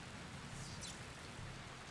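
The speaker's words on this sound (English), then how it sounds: "It's raining, so it's going to be a lot harder to do this." Steady rain in the zombie video game Dying Light, an even, dense hiss that continues with no break and no voices.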